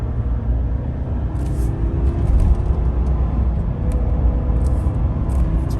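A 2022 Chevrolet Silverado pickup with the 2.7L engine pulls away from a stop under full throttle, its low engine rumble and road noise steady and close throughout, swelling slightly midway with no talking.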